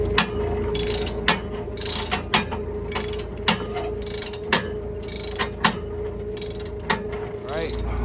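A ratchet wrench works bolts off a tractor's front weight bracket, giving repeated short clicking bursts spaced about every half second over a faint steady background hum.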